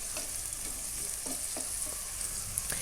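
Onion and ground tomato frying in oil for chicken biryani, a continuous close sizzle broken by several sharp spoon scrapes and stirs spaced through the clip.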